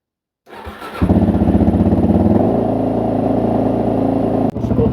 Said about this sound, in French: Puis ça craque bien avec la ligne pro circuit là, avec le silencieux.